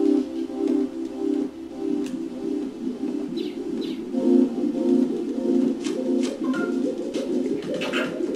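A tiny yellow chick chirps in the Mother 3 video game, with short, bright chirps scattered over a steady background of game music.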